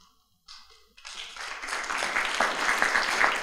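Audience applause at a talk on the ketogenic diet in neurology and psychiatry, starting sparse with a few claps and swelling into steady, fairly distant clapping that holds to the end.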